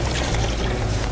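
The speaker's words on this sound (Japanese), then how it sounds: "とりあえず海水汲んでいきます" Seawater scooped and poured into a container at the seashore, a steady wet splashing and trickling wash close to the microphone with no talk.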